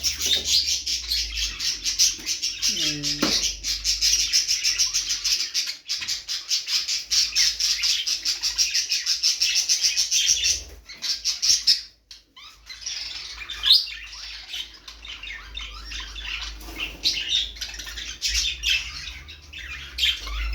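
Pet budgerigars at the start of a breeding season, a pair in a cage, chirping and chattering steadily up close with occasional harsh squawks, a continuous bright twittering that dips briefly midway before resuming.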